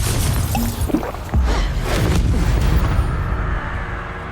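A Confringo spell blast in Hogwarts Legacy, a loud close boom with a whooshing rush and rumbling debris that fades out over a few seconds.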